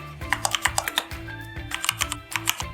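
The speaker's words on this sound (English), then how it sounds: "Type the name of the item." Fingers tap quickly on a computer keyboard, a close, steady run of light clicks in irregular bursts with no talk.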